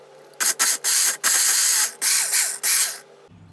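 A kitchen blender purees whole spices for butter chicken in about six short, loud, whirring pulses separated by brief pauses, close and harsh, with no voices.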